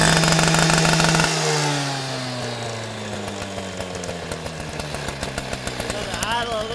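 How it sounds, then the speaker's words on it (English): A STIHL TS400 chop saw's two-stroke engine, choke just taken off, revs high and loud, then its pitch falls away before a run of rapid, uneven throttle blips; a voice briefly talks over it. "Alright, we'll rev it up here again."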